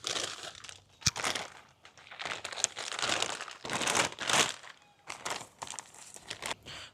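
Packaging crinkles and crunches in bursts as a three-piece front splitter for a 2026 Ford Mustang is unboxed, the close rustling swelling and fading with brief pauses, plus one sharp knock near the start.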